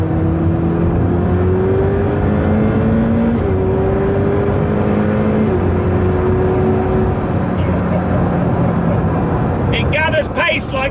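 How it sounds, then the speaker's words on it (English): Ferrari 488 Pista V8 engine pulling hard on a racetrack, its pitch climbing steadily and then dropping at several quick gear changes, loud and continuous beneath a voice talking throughout. "You start to get a little bit of a flavour of that V8 sat behind me, and then the gear changes are savage."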